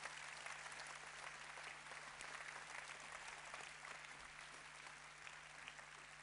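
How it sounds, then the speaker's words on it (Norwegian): An audience applauds steadily at a staff closing show for a municipality, a sustained wash of clapping heard from a distance, fairly faint and without talk. "Full applaus til alle."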